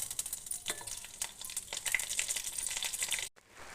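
Curry leaves hit a hot oil tempering of mustard seeds, cumin and a dried red chili for peanut chutney, giving a steady bright sizzle with crackles that cuts off abruptly near the end.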